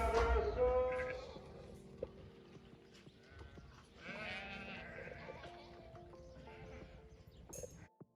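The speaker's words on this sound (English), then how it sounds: "So that herd of sheep every morning and every night would be crossing that field right by our window" A flock of sheep bleating repeatedly at a moderate distance in Casablanca, overlapping calls rising and falling over a low outdoor rumble, with no speech.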